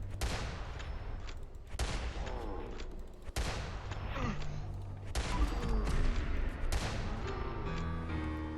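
Trail Carbine rifle fire in Fallout 4's VATS mode: about five loud, sharp gunshot bursts spaced every second or two, each trailing into echoing game effects and a low rumble.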